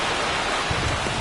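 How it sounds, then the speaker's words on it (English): Steady, dense hiss of heavy rain falling on a ballpark in MLB The Show 25, loud and continuous throughout a brief stretch with no talk over it. "This rain is not letting up."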